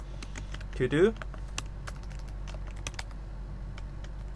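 Computer keyboard typing while writing code, soft scattered key taps at close range under a brief spoken word and low room hum.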